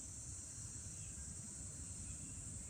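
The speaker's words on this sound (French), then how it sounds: "être très attentive au bruit des grillons, au petit zzz comme ça qui fait une petite vibration" Crickets trill as a faint, unbroken high buzz that hangs evenly throughout, with a low rumble beneath it and no voices.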